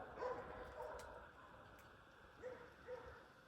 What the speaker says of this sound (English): And my neighbor's lovely barking dogs.